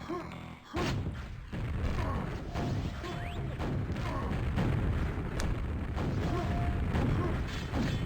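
Grenade spam in a QuakeWorld duel makes a dense barrage of booming explosions and crashing game effects, loud and continuous with overlapping blasts and no clear pauses.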